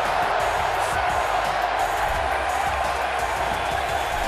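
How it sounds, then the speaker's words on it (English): A large crowd roars and cheers steadily throughout, a dense wall of noise from an arena, in the wrestling video game WWE 2K as Sasha Banks enters. "And Michael, listen to this reaction for Sasha Banks."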